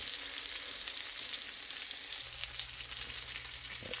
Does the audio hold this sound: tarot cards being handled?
no